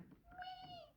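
A human voice imitates the high, wavering cries of a hungry kitten in one short, thin mewing call, faint and close.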